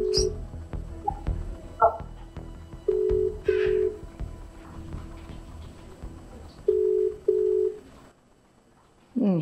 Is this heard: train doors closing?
no